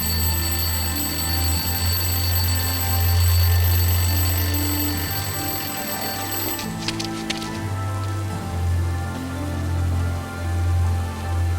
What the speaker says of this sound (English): Okay, I'll place the alarm clock in the rubbish bin. Let's see what happens when it goes off.